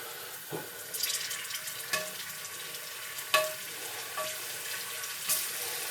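Apios tubers drop into simmering liquid in a pot, giving a soft, steady bubbling and sizzle with a few sharper splashes and clinks as they go in, close up and without talk.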